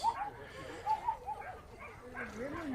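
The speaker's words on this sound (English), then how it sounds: "There's some unhappy dogs in the audience." Unhappy dogs in the audience at a baseball game yip, whimper and give small barks in scattered bursts, mid-distance, with a commentator talking over them.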